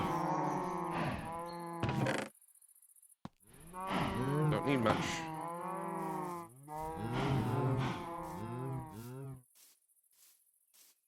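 Cows in a video game moo repeatedly, several long drawn-out calls in succession, fairly loud and close, with a brief spoken phrase between them.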